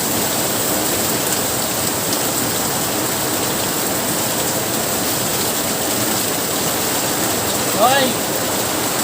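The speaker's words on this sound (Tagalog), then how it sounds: "Malakas ang ulan eh." Heavy rain pours steadily and loudly outdoors as a dense, unbroken hiss, with a brief voice-like sound near the end.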